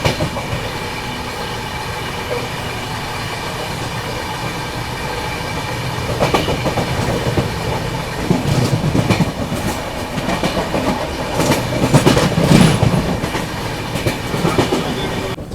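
A Dibrugarh Rajdhani Express rolls steadily along the rails, a continuous loud rumble with clickety-clack wheel beats that grow busier and heavier in the second half, heard from on board.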